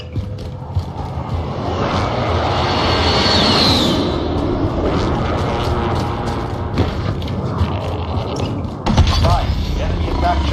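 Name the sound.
enemy attack helicopter flying overhead in a video game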